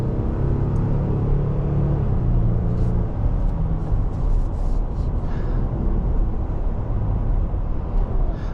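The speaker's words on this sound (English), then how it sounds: "It's gonna start rev matching downshifts." Steady engine rumble from a 2025 Nissan Frontier Pro-4X pickup in tow mode, rising and falling with rev-matching downshifts, heard from inside the cab as continuous loud road and motor noise.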